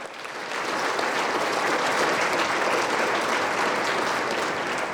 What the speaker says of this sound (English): Let's have another round of applause for both General Lowe and Major Mokosso.